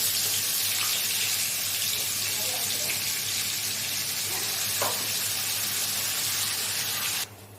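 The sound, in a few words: chilli, tomato, cumin and onion paste added to sizzling oil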